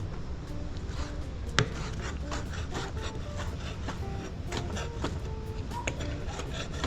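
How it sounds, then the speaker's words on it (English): Vegetables being chopped small with a big knife for a Mediterranean soup in Medellin, Colombia: a steady run of quick, close knife taps on a cutting board with one sharper knock partway through, over a constant kitchen background. "And you can chop it however you want. For me, it's like, I like to chop it small."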